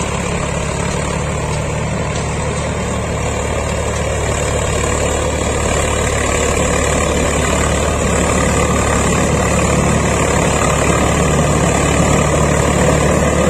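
A Swaraj 855 tractor drags an 8-foot rotavator through heavy farm soil. Its engine gives a loud, continuous, even drone close to the microphone, holding steady throughout with no pauses or voices.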